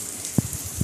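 Steady rain falls on a rainy day, a soft broadband hiss with two dull drop thumps landing nearby, fairly quiet and with no voices.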